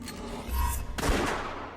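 Enemy gunfire in the game West of Dead, a couple of sharp shots thudding against cover, fairly faint and close, with a stronger blast hitting around the middle.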